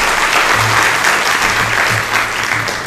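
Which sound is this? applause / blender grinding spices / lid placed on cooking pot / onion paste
applause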